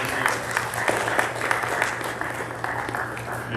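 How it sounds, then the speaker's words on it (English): An audience at an indoor community presentation applauds committee members, producing a steady wash of clapping with a few sharper close claps standing out, and a low constant hum running underneath. "A round of applause to all our committee members."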